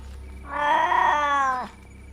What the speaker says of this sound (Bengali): বিড়ালের আওয়াজ অনুসরণ করে সেদিকে যাই